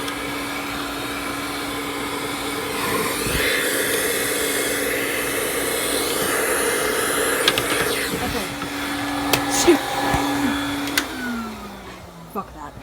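A Bissell PowerForce Helix upright vacuum runs steadily with a loud, hissing motor drone while drying out its dust bins, then clunks and winds down toward the end.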